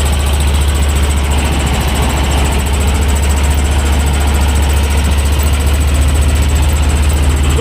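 A T-25 tractor engine runs steadily at a low, throbbing idle-like drone while pulling an Agrozet SA2 074 potato planter in a field, loud and continuous throughout with no voices.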